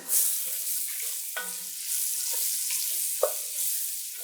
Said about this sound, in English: I have a teaspoon of chipotle chili powder. More smokiness and a little more heat than regular chili powder. Let's give this all a stir.